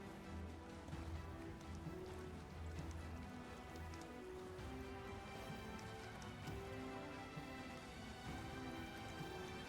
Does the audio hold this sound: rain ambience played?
yes